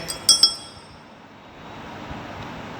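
A glass watch glass, part of a set of lab tools for staining sunflower stem sections, gives two or three bright, close clinks in quick succession, then handling noise fades into quiet room ambience.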